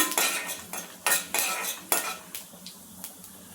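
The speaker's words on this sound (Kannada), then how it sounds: "ಹಾಗೆ ಉದ್ದಿನಬೇಳೆ 1 ಸ್ಪೂನ್ ಚೆನ್ನಾಗಿ ಫ್ರೈ ಮಾಡ್ಕೊಳ್ತಿದ್ದೀನಿ." Urad dal fried and stirred in a pan for radish sambar, with sharp metal spoon scrapes and clinks against the pan at irregular intervals over a faint sizzle, close and fairly loud.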